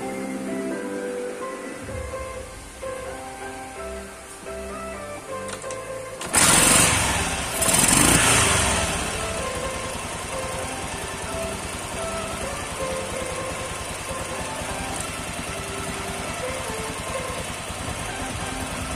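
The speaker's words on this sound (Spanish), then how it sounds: "Vamos a echar a andar la moto para ver cómo está trabajando" A Honda Cargo 125 motorcycle engine starts with a brief surge, then settles into a steady idling rumble that continues evenly at moderate volume.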